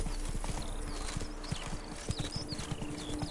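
Horse hooves clip-clop in a steady trotting rhythm inside a video game, close and even, over a constant background hum with a faint whinny.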